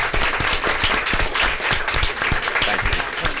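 Audience applause at a school board meeting, a steady wash of many hands clapping at close range, filling the whole moment without a break.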